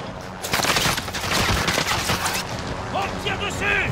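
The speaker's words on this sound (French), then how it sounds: "On tire dessus." Loud, close bursts of automatic gunfire from the video game Call of Duty Warzone come in rapid volleys, with overlapping shots and booms and brief voice-like tones near the end.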